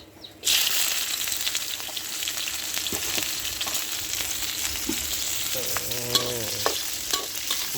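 Fresh catfish pieces drop into a hot wok for a spicy Thai stir-fry, setting off a sudden loud sizzle that holds steady and close, with a few utensil scrapes and clinks near the end.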